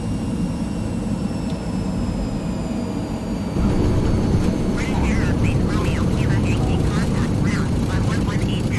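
A Hawk T1 jet trainer landing in Microsoft Flight Simulator, a steady whining turbine roar with high tones that gets louder and rougher as the jet touches down.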